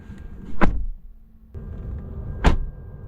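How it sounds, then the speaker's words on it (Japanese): Doors of a 2022 Mitsubishi Outlander PHEV shutting, two solid dull thuds about two seconds apart, close and clear against a quiet background. "ドアを閉めた音は"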